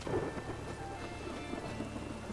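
Steady rain falls with low rumbles of thunder in a stormy scene from the video game Witcher 3, a soft continuous patter under a distant roll, no voices.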